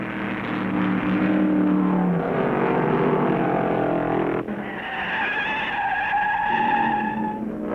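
Loud tire squeal from a race car flat-spotting its tires at the 1970 Motor Trend 500 at Riverside, a high screeching whine over roaring engine noise, sustained for several seconds.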